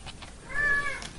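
A single cat meow, drawn out and rising then falling, close by with faint background noise.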